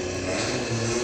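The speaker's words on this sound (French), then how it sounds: "Ah si, c'est une moto." A motorcycle idling right under a window, a steady, droning engine rumble that holds constant and fairly loud for about a second.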